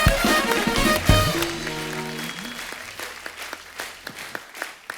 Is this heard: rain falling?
no